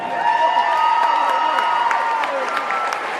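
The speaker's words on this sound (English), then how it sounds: "Y'all give them a round of applause." A pep rally crowd for a school football team applauds and cheers steadily, with whoops and shrill voices rising over the dense clapping.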